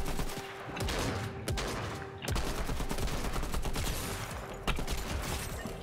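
Rapid gunfire crackles in repeated bursts during a Fortnite match, loud and close, with brief lulls between volleys.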